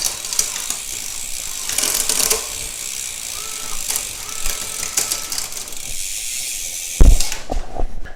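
A SRAM 1x14 wireless Archer D1X drivetrain spins on a bicycle in a repair stand, giving a steady, fairly quiet whir and ratcheting tick that ends in a sharper mechanical clunk.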